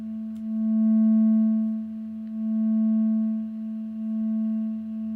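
A synthesizer triangle wave passes through a one-pole filter and holds one steady pitched tone with faint overtones. Its loudness swells and dips gently in slow waves.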